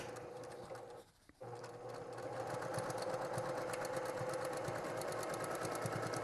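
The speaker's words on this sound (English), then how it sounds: "I'm going to back stitch to secure" A sewing machine back stitching fabric while making a travel shave bag, a steady fast mechanical whir that halts briefly, then runs on evenly and close.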